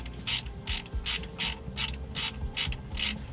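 A ratchet tightens the transmission pan bolts on a 2005 T1N Dodge Sprinter, clicking close and clear in about eight evenly spaced bursts, with no talking.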